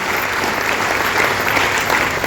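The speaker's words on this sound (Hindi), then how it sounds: "एक बार अपने लिए तालियां बजा लीजिए" Dense, continuous applause from a large seminar audience, loud and even throughout with no break.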